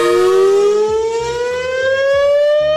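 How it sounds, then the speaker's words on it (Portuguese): A loud civil defense siren wails steadily, its tone slowly rising over a low rumbling background. "que doideira essa sirene"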